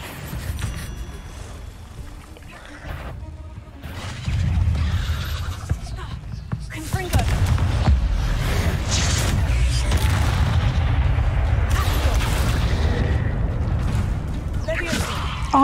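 Bombs exploding in the Hogwarts Legacy video game, a series of deep booms and rumbling blasts, loud and close, rolling on almost continuously through the second half with talk over them.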